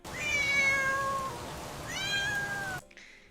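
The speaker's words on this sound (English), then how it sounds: "If a cat meows, it's like meow, meow." A cat meows twice in an AI-generated video, two clear drawn-out descending meows, close and fairly loud, ending in a brief near-silence.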